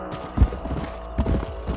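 Horse hooves clip-clop at an unhurried pace in the video game Red Dead Redemption, a few clear thuds over a low ambient hum, with no talking.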